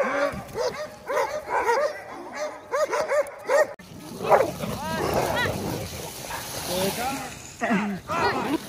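A pack of sled dogs on an Alaskan trail bark and whimper continuously, many overlapping yips and howls at close range, growing denser and more excited midway as more dogs join in, with no talk.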